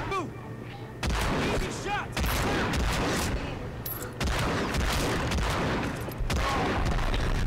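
Heavy gunfire in Hitman: Absolution, with shotgun blasts among loud sustained volleys and booms in several long bursts separated by brief pauses, with voices faintly underneath.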